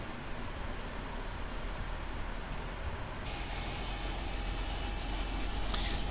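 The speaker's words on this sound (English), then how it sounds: "Start the right engine." Right engine of a PMDG 777-300ER spooling up at start in an FSX flight simulator, a steady broadband jet rumble and hiss that brightens partway through with a rising high whine, no talking.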